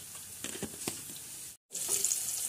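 Potatoes frying in oil in a pan, a steady close sizzle with soft stirring scrapes, broken by a brief gap of silence before the hiss resumes.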